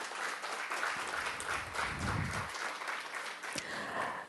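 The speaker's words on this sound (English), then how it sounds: "let's give them a round of applause" An audience of friends and family at a book launch in Trinidad gives a round of applause: steady, dense clapping from a room full of people, fairly soft and distant, with no speech over it.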